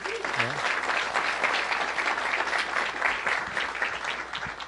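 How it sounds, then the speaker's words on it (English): An audience at a workplace safety meeting breaks into applause, dense and steady clapping throughout, with a faint voice briefly heard underneath. "How about a round of applause for that?"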